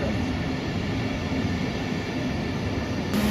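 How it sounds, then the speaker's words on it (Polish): An Express Intercity Berlin–Warsaw passenger train rolls past at a Warsaw station, giving a loud, steady, broadband rumble with no break across the whole stretch. No one speaks over it. "Pociąg Express Intercity Berlin Warszawa."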